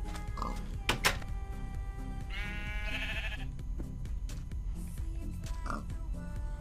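Sheep bleating in a video game, a few short nasal bleats scattered among clicks, a brief tonal game jingle and low background noise, fairly faint with no clear speech.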